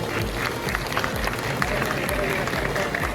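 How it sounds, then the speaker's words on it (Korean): Crowd applause at the 2023 Korea Fintech Week event, a dense, steady wash of many hands clapping for the officials just introduced, filling the short stretch at an even level. "여러분 큰 박수를 부탁드리겠습니다"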